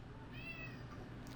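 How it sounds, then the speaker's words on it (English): A cat lets out a single drawn-out meow, fairly faint against a low background hum. "is being a loud cat."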